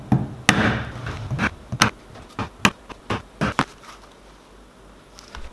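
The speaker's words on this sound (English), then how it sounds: "using the pricking iron to mark the stitches" A pricking iron is hammered into leather to mark stitch holes for a backpack flap: a string of sharp, close taps, about ten, irregularly spaced and fading toward the end.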